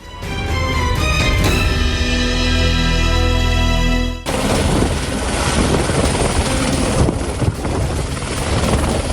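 Two Indonesian Air Force helicopters flying relief food supplies to a district in Mimika, with a steady, loud rotor and engine roar that runs throughout, shifting in tone partway through.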